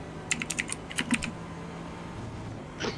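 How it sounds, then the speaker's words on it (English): Someone types hard on a computer keyboard during an iRacing Spa-Francorchamps 24-hour race, with bursts of loud, fast clacking keystrokes in quick clusters, then a pause and a few more taps near the end. "He's typing with vigor."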